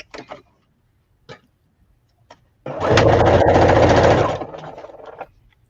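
A sewing machine stitches a bodice lining together in one quick burst of about a second and a half of steady whirring, with small clicks and handling noises before and after.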